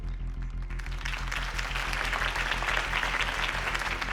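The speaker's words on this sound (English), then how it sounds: "If only Mr. Wayne, my campaign's largest backer, could have heard that applause" Audience applause swells after a campaign speech in Batman: The Telltale Series, steady clapping that grows louder and denser over a low rhythmic music beat.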